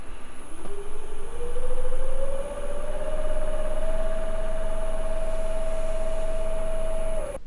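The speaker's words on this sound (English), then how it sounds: "So that's spinning up at about 1000 RPM." A wood lathe turning an off-centre triangular vase blank spins up to about 1000 RPM, a steady motor whine rising in pitch over the first few seconds and then holding an even, close drone.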